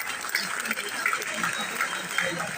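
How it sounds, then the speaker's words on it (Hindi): Dense, steady clapping from an audience welcoming a retired major at a school art and science exhibition prize ceremony, with a few voices mixed in. "जोरदार तालियों के साथ एक बार स्वागत करें उनका"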